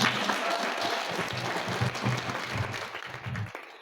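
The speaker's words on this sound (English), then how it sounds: "Can we clap for ourselves?" An audience at an International Women's Day celebration in Kenya applauds in a dense, steady wash of clapping that holds for several seconds before tapering off.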